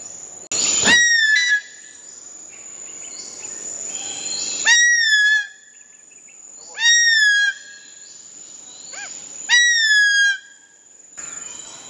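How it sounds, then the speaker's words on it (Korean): A Philippine eagle at a conservation centre gives four separate crow-like calls, each a clear, fairly close cry with a falling pitch, spaced several seconds apart over a faint, steady high hum. "많은 수리류는 우리가 독수리 울음소리 하면 떠오르는 날카로운 소리와는 다른 울음소리를 가지고 있습니다."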